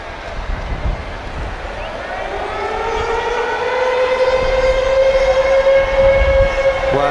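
Full-time hooter at a rugby sevens match, Australia against England in the 2017 World Series bowl final in Port Elizabeth, sounding as a long rising, sustained tone over crowd noise, with a commentator talking.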